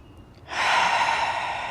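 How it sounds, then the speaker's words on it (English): A single audible breath during a yoga class: a breathy, airy rush that starts after a short quiet moment and holds steadily to the end, close and unaccompanied by talk. "really just start to tap into that natural rhythm of the breath"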